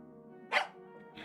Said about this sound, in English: the dog barked in agreement and stopped messing with the mitten.